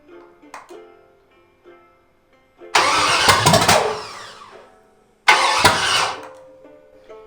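A Chevy 350 small-block V8 cranks and catches twice, each time bursting into a loud, rough run close by for a couple of seconds before cutting out, with quiet clicks between attempts.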